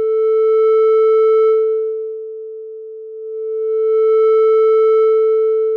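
A steady 440 Hz sine tone runs through a Console 6 channel plugin that adds odd-order harmonic distortion, the buzzy overtones fading out midway as the level drops, then swelling back as it rises again.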